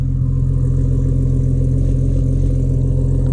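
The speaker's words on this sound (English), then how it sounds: "So that's at idle with the VAREX open, 4-inch ANTZ Performance exhaust with a 4-inch VAREX muffler." A car with a Barra engine idles through a 4-inch ANTZ Performance exhaust with the VAREX muffler open, giving a steady, deep, loud burble that stays even throughout, up close and with no talk.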